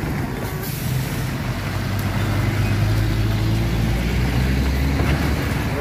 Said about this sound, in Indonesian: Truk trailer tangki.